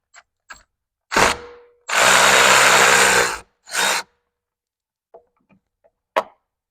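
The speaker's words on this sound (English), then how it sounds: "Just using a Milwaukee ratchet. Hopefully it breaks them." A Milwaukee power ratchet works on exhaust bolts of a Ski-Doo Gen 5 turbo snowmobile, firing in loud close bursts: a short buzz, a long steady whir of about a second and a half, then another short spurt, with faint clicks around them.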